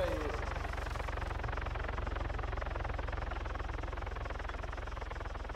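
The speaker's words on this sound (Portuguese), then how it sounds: "Helicóptero tá aqui na minha posição." Helicopter in the video game Arma 3, a loud continuous rotor thrum with steady low pulsing, close and constant throughout, with players talking over it.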